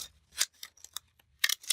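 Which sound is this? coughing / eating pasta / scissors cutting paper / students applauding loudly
scissors cutting paper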